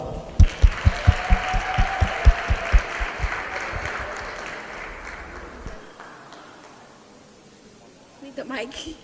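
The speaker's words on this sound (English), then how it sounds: "Give it a round of applause for them." An audience at a school diversity day stage show claps for the performers, with a few loud nearby claps over a wider crowd that gradually fades into quiet room noise.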